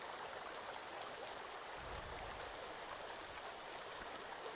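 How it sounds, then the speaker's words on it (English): Running water in the survival video game Sons Of The Forest makes a steady, faint broadband rush like a stream, constant throughout with no talk. "I hear water."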